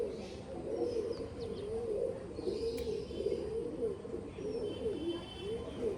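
Andhra pigeons, a breeding pair standing together, coo steadily in a low rolling rhythm for several seconds, fairly faint, with a few faint higher chirps behind.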